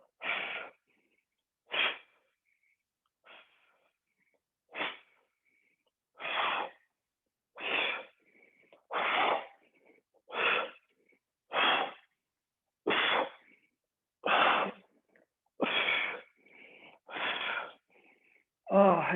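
An instructor breathes sharply in rhythm during a Pilates exercise, with repeated loud, breathy inhales and exhales spaced about a second apart and silence between them.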